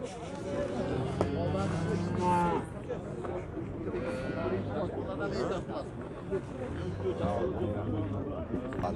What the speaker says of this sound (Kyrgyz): Герофорд породасындагы кунажындар уйлар экен